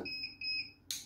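Short electronic beeps from a chronograph velocimeter, two sustained high tones repeating in a quick pattern, then a sharp click-like burst at the end; no one speaks.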